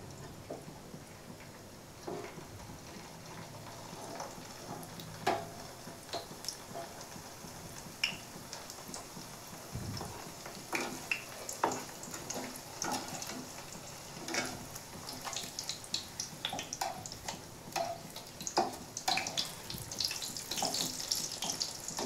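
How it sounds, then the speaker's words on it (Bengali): Maggi puri deep-fry one by one in hot oil, with a steady bubbling sizzle broken by frequent small crackles and pops, close and moderately quiet. "দেখো, এখানে পুরিগুলো আমি একে একে ভেজে নিচ্ছি।"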